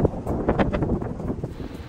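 Gusty wind aboard a cruise ship on the way to Togendai Port buffets the microphone in uneven bursts, a rough low rumble swelling and fading over a couple of seconds.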